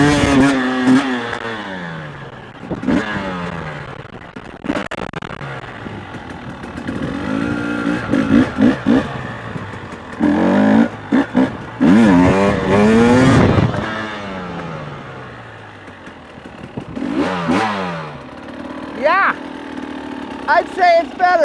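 Husqvarna TX300i two-stroke dirt bike engine, warm after running, idling and blipping through several sharp revs, loud and close, with bursts rising and falling and brief quieter stretches between.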